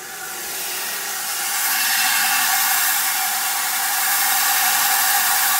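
A low-speed electric motor drives a DIY magnetic tumbler loaded with strong neodymium magnets, giving a steady, broad whirring hiss that swells slightly and holds constant throughout, with no talking.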